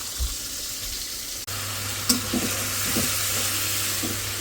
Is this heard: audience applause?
no